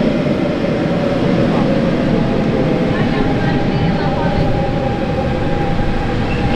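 Metro train at a station in Paris, a loud continuous rumbling roar of rolling carriages with faint squeals, steady throughout, with people talking nearby.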